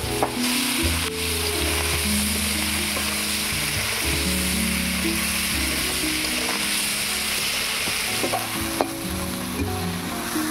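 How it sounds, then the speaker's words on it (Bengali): Steady, dense sizzling of prawns with salt and turmeric frying in hot oil, continuous and close, with occasional faint clicks of a utensil and low background hum. "চিংড়ি মাছ ভাজা হয়ে গিয়েছে"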